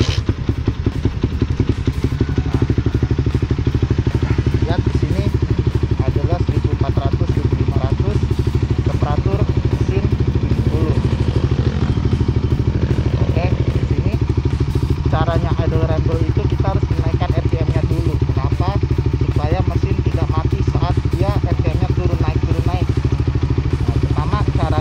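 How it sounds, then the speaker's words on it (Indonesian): A Kuda Juken 5 motorcycle engine, which has only a kick starter and no electric starter, runs steadily at a close, loud, rough idle with mechanical clatter and a constant throb for the whole stretch, and someone talks over it. "Kita hidupin motornya. Maaf, dihidupinnya pakai engkol,"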